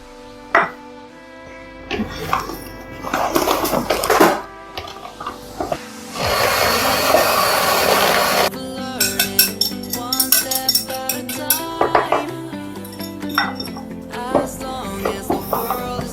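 Cake batter being mixed in a bowl, with repeated clinks and scrapes of a utensil against the bowl that come in bursts, mixed with other kitchen sounds.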